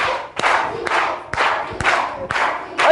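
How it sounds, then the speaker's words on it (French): A church audience claps in a steady rhythm with sharp regular beats, mixed with cheering and crowd voices, moderately loud and continuing throughout. "On applaudit fort pour Oti."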